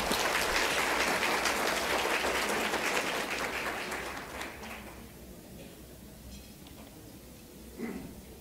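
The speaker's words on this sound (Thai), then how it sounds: "ดิฉันขอเสียงปรบมือต้อนรับท่านดร." Audience clapping to welcome a speaker at a seminar on ASEAN economic liberalisation and tourism business, sustained steady applause from a hall full of people that tapers off midway, followed by low room noise.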